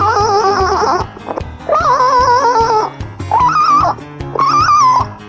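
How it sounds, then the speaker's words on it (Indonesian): Synthetic dog barks and yelps from an Android voice changer app, four loud electronic bursts with a whining, warbling tone, separated by short gaps, close and clear with no talk. "Waduh, ada suara anjingnya juga."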